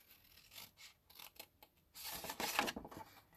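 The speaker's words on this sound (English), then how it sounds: "we're going to cut up each of these tabs at the bottom to that 1 1/4 score inch line" Scissors cutting into the bottom tabs of a paper gift bag, several quiet close snips in short bursts, with a longer slicing cut near the end.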